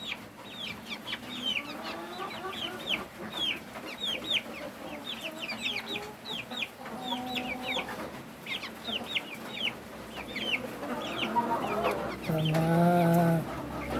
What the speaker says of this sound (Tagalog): Rhode Island Chicks